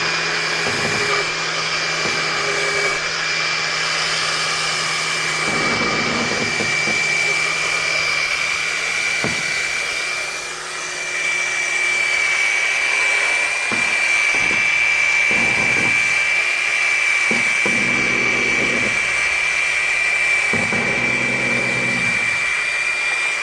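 Rotary buffer polishing plastic beneath boat cleats: a steady high-pitched motor whine runs throughout, broken by intermittent lower grinding bursts as the pad catches on the surface.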